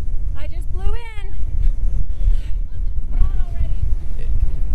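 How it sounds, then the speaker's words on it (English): Strong wind at White Sands National Park rumbles as a loud, constant low buffeting across the microphone, while a voice speaks over it in short bursts. "It's a bit windy here today at White Sands National Park."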